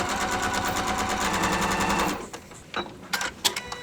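A sewing machine stitches quilt fabric in a rapid, even mechanical run for about two seconds, then stops, followed by a few faint handling clicks.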